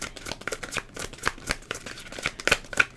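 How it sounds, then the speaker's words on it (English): Rapid, crisp riffling of tarot cards, a stream of quick papery flicks and taps repeated over a few seconds, close and fairly quiet. "it wouldn't be a problem to shuffle these cards"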